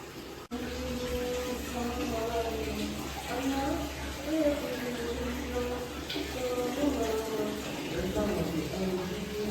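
Steady rush of running water from a tap, continuous and fairly close, with a voice talking and humming over it.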